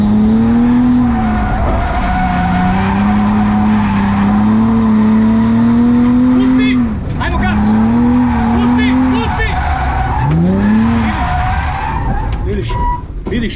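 A car drifting at a drift school, spun under full throttle: a close, loud engine roar with long, wavering tire squeals that dip briefly and then surge again as the car slides around.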